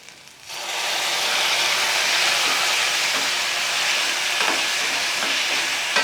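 Chopped onions and tomatoes for Chettinad fish curry hit hot oil with a sudden burst into a loud, steady sizzling hiss that holds throughout with faint stirring scrapes, no speech.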